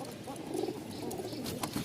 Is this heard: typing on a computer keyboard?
no